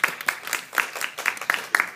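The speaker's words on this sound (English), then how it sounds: "let's go ahead and welcome Connie as the second speaker for the opposition with a round of applause" Audience applause welcoming the second opposition speaker at a school debate, a scattered round of claps with irregular bursts at moderate loudness, heard alone.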